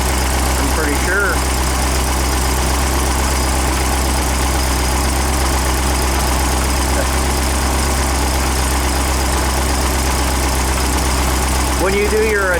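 An engine runs steadily during cam break-in, a constant loud low rumble with even vibration throughout, with faint brief voice traces over it.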